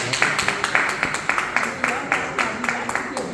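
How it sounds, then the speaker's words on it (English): An audience at a Royal Horse Guards awards presentation claps steadily, a close, moderately loud patter of hands with distinct individual claps in a regular rhythm. "Can you give her a round of applause, please?"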